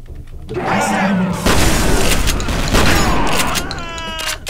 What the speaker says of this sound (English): Very powerful shotgun.